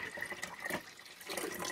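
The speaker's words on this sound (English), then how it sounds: "And now we're going to add beef broth." Beef broth pours into a soup pot of homemade beef vegetable soup, a short faint splashing gurgle of liquid lasting under two seconds, with no talking.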